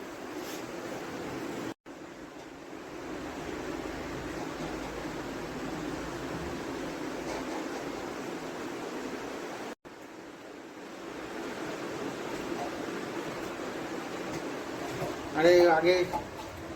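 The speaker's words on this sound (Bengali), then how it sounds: "জল পড়ছে" Water pours steadily into a home aquarium as it is filled, a constant broad rushing hiss with two brief cut-outs, while people talk over it.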